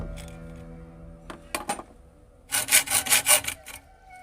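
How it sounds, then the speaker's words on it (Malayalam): A nail being cut into a short piece for use as a rivet, made for a spear gun or crossbow trigger: a few scattered rasping strokes, then a close, loud run of about six rhythmic sawing strokes. "ആണി തന്നെ റിവീറ്റ് പോലെ അടിച്ച് വെക്കാൻ വേണ്ടി കട്ട് ചെയ്തെടുക്കുക കേട്ടോ"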